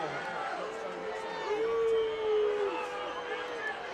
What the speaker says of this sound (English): Central Dauphin fans are not happy over that.